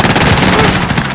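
Rapid automatic gunfire from Call of Duty: Modern Warfare, a loud, dense burst of close shots rattling continuously for about a second with no talk.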